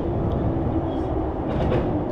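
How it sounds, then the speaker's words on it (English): Loud, steady rumble of a train inside a busy station at night, with continuous low-frequency roar and faint rail clatter filling the whole stretch, no voices. "Let's get out of this noisy train station."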